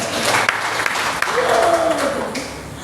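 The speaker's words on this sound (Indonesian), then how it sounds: "Berikan tepuk tangan yang meriah." Church congregation applauding during a sermon: a broad wash of crowd clapping with a few sharper individual claps, while a voice and a faint tonal sound rise in the middle before the applause tapers off.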